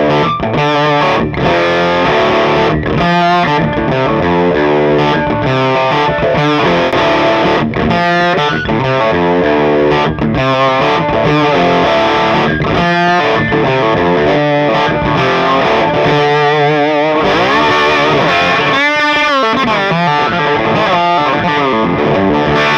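An electric guitar on its bridge pickup plays a heavily distorted riff, loud and continuous, with chugging chords and quick note runs throughout, no voices.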